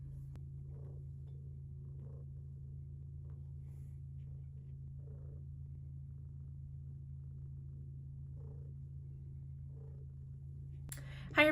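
A cat purrs steadily while kneading on her bed, a soft continuous low rumble close by with faint periodic rises, and a brief voice breaks in at the very end.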